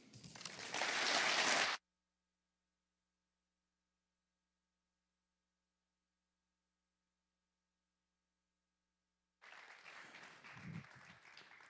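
Audience applause at an awards ceremony for environmental excellence, a short loud burst of clapping, then near silence, then a quieter round of clapping returning at the end.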